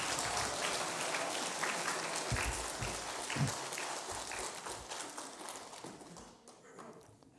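A church congregation gives a big round of applause to welcome their senior pastor: dense, continuous clapping from many hands that holds steady, then gradually thins and fades out.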